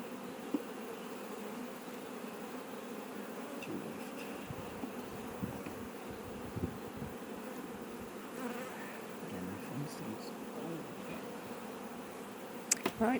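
Honeybees buzz steadily around an open hive during a queen inspection, a dense, continuous drone close by with occasional louder passes of individual bees.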